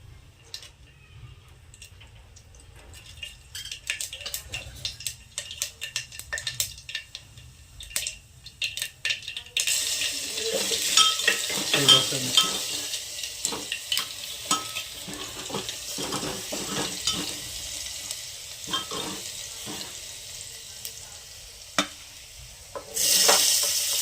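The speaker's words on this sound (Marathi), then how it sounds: "हे गेले जिरे मोहरी." Cumin and mustard seeds hit hot oil for a spicy potato curry, starting a loud, steady sizzle with crackling pops and occasional utensil clinks against the pan.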